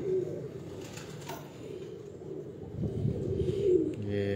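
Breeder pigeons in a loft in Kasur coo in low, soft, rumbling calls that overlap and repeat against a faint background murmur, with no clear talking.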